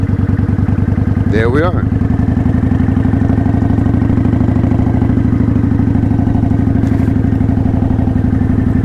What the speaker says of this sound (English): I'm gonna go to second, letting off the clutch slowly, giving it a little gas.